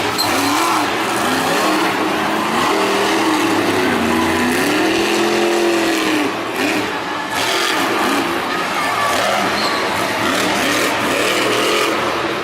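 A Raminator monster truck spinning a donut at a Monster Jam stadium event in Nashville: a loud, continuous engine roar rising and falling in pitch as it revs, with tire noise and arena ambience throughout.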